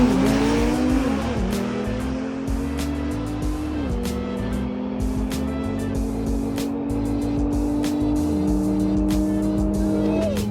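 An Audi RS3 fitted with a hybrid turbo accelerates hard at a drag race, the engine note climbing steadily through several gear changes, loud and continuous with sharp crackles layered over the roar.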